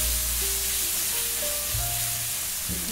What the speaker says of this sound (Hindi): इसे भी फ्राई करेंगे।